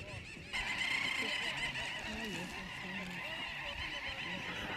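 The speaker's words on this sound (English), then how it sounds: "we are visiting a big colony of birds. This time, the little auk." A large colony of little auk seabirds on a basalt-rock mountain slope in Svalbard, a dense continuous chorus of chattering, overlapping calls filling the air after a brief quiet start.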